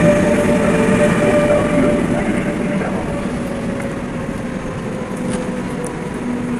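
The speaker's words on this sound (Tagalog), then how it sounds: "train going to Emden" A train travels toward Emden, heard from on board as a loud, continuous low rumble of rolling wheels with steady mechanical drone and faint rail clatter, close and unbroken throughout, with no talking.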